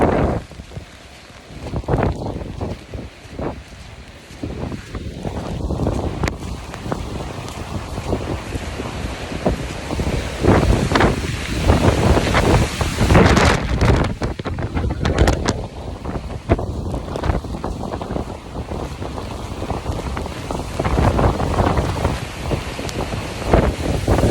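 Strong wind gusting hard outdoors around a fence that is coming apart, a loud continuous roar and buffeting against the microphone that surges and eases throughout, with no voices.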